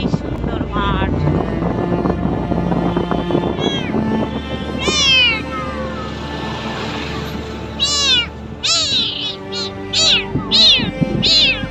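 A kitten meows repeatedly while riding on a moving motorcycle along an open road, its rising cries near and clear over a steady engine drone, growing more frequent toward the end.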